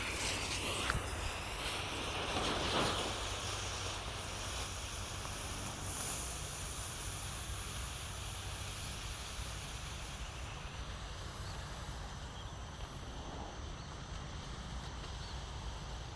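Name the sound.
colored smoke balls hissing as they burn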